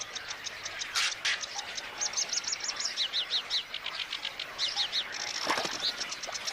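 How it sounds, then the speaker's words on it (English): Glossy ibis in the Volga Delta, Astrakhan Nature Reserve, with rapid high chirps and tweets in quick repeated bursts, a few louder calls standing out over a steady bed of birdsong at moderate distance. "A glossy ibis."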